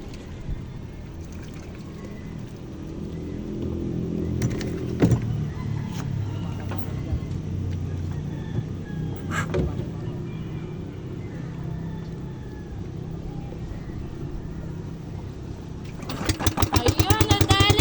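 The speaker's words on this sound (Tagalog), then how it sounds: "Ayan, umaandar na nga yung bangka namin." A small motorized fishing boat engine sputters, then catches and settles into a steady low drone, with a few sharp knocks and a loud rapid chugging rising at the end, with people talking.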